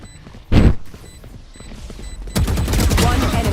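Gunfire from the Valorant video game: a loud close shot, then a sustained burst of rapid fire with game sound effects, and players talking faintly underneath.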